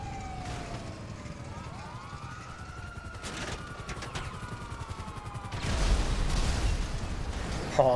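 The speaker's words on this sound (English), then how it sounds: "And there's a lot of awesome explosions in between." Chaotic GTA V online mayhem with sirens wailing and swooping overhead, bursts of gunfire and a heavier explosive roar building near the end, continuous and loud throughout.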